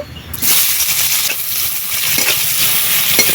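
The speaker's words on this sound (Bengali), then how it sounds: "ওই তেলেই আজকে রান্নাটা করব দিয়ে দিচ্ছি কালো জিরে পেঁয়াজ কুচি" Chopped onion and black cumin seeds drop into oil left over from frying fish, setting off an abrupt, loud, steady hissing sizzle that carries on unbroken at close range.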